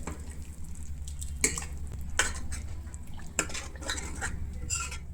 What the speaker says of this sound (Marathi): आता त्यात शिजवलेल्या शेरण्या आणि चवळी घालायची आणि छान हलक्या हाताने मिक्स करून घ्यायचं